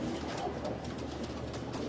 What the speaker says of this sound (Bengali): এই যে আমার এই কবুতরটা